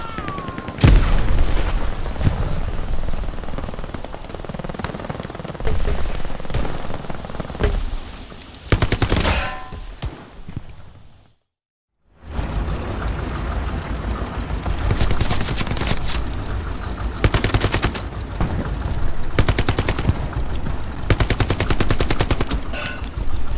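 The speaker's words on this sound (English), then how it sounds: "Gunfire from the south." Gunfire in the World War II shooter Hell Let Loose, at an Omaha Beach landing: rapid machine-gun bursts and rifle shots crackle near and far with occasional booms, broken by a brief silent gap midway.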